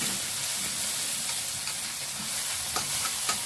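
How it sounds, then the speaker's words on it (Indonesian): Spice paste for buntil broth sizzles and crackles steadily in hot oil in a pan as it is stir-fried, a dense continuous frying hiss with occasional light scraping, no voices. "ini saya tumis seperti ini sampai harum ya teman-teman"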